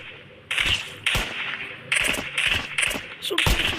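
Gunfire in a Roblox tycoon game comes as repeated punchy shots in uneven bursts, fairly loud and close, with a faint voice now and then.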